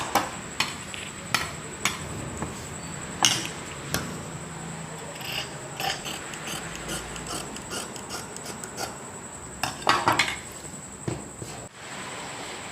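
Scissors snip through chudidhar fabric while a collar neck is cut, giving a series of sharp, close clicks and crisp cutting strokes in an irregular rhythm against a quiet room.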